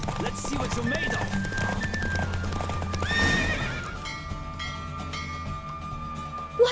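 Racing horse galloping in The Witcher 3, loud rhythmic hoofbeats that fade out after a few seconds as music continues, with a horse whinny and brief voices.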